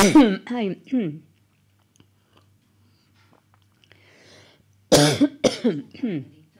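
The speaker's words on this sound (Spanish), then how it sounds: "Perdón, que es que estoy yo con una tos." A person coughs in a burst of several harsh coughs, falls quiet for a few seconds, then coughs again repeatedly, close by.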